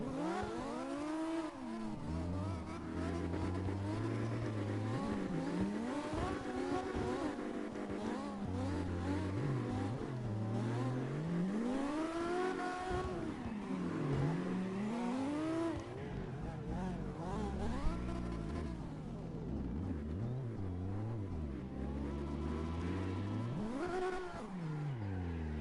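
Drift car engine in the game CarX Drift Racing, revving and rising and falling in long whining sweeps over about 25 seconds, loud and continuous with some tire noise.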